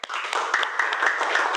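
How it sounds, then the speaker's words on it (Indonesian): A vocational high school automotive class claps together in a classroom, a brief burst of hand claps with a few sharper individual claps standing out, fairly close and loud. "tepuk tangan untuk kita"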